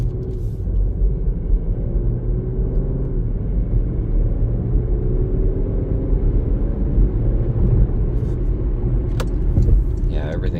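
A 2023 Porsche Macan S cruising on a straight road, its steady low engine and tyre rumble droning continuously from inside the cabin, with a faint jangle near the end.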